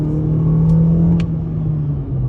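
Steady engine drone and rumble of a 2022 Toyota C-HR XLE picking up speed from a rolling start, heard from inside the cabin, with a slight dip in pitch as it shifts partway through.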